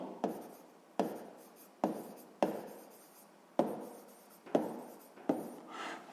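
Pen or chalk writing out a sixth-grade math solution, heard as about seven crisp scratchy strokes in an irregular rhythm, fairly close and alone with no talk.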